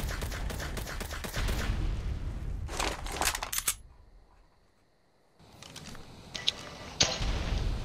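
Bursts of assault rifle fire in a third-person shooter, sharp and loud, breaking off into a brief near-silence before more shots resume.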